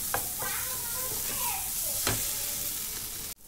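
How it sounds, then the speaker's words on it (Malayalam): Spice powders sizzle steadily in a hot pan for palak paneer while a spoon scrapes and stirs through them, close and constant, with a faint voice behind and the frying cut off abruptly near the end. "ഇനിയിപ്പോൾ ഇതെല്ലാം കൂടെ ഒന്ന് വഴറ്റിയെടുക്കാം അതിൻ്റെ കൂടെ മിക്സ് ചെയ്തിട്ട് ഒന്ന് ചൂടാക്കാം"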